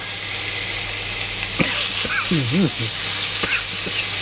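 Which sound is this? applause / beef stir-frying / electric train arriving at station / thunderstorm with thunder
beef stir-frying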